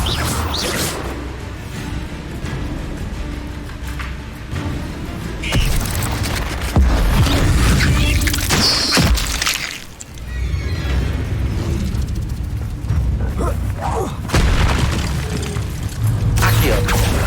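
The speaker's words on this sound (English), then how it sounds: "Expelliarmus!" Expelliarmus spell effects in Hogwarts Legacy, loud repeated whooshes, booms and crashing impacts in a busy mix of combat sounds over a continuous rumbling background.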